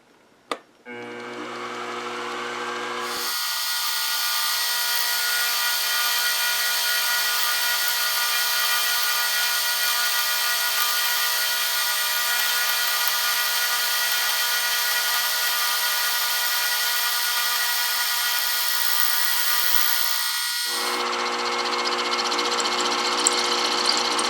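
A milling machine taking a cutting pass to clear out the bottom of a workpiece, a loud, steady high-pitched whine with a lower tonal drone that spins up sharply, holds unbroken for about seventeen seconds, then drops away.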